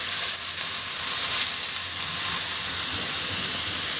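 Washed potatoes dropped into hot oil with fried onion and green chilli raise a loud, dense, continuous sizzle and hiss that holds steady throughout, with no voice.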